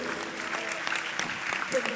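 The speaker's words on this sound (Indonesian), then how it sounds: "Oke, tepuk tangan semua untuk Mbak Geol." Soft, continuous clapping from an audience at an Indonesian public discussion event, a steady patter of many hands heard at a distance and faint in level.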